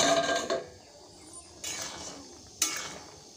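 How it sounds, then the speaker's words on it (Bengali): A lid lifted off a pot of mushroom and potato curry cooking on a rural stove: a short metallic clink and scrape, then two more faint clatters a second apart, quiet and close. "পাঁচ মিনিট আমার হয়ে গেছে, এবার আমি ঢাকনাটা খুলে নিচ্ছি।"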